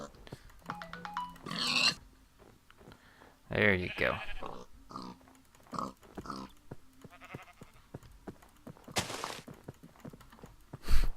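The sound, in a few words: pig oinking in the video game Minecraft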